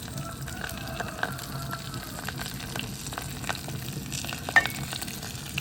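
Sliced onion, green chilli and curry leaves fry in hot oil, giving a steady close sizzle with light stirring scrapes and small pops.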